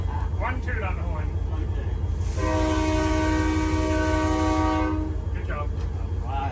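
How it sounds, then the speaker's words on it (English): A train horn on a steam engine sounds one long, steady toot lasting a couple of seconds, loud and close, with voices talking before and after it. "One toot on the horn"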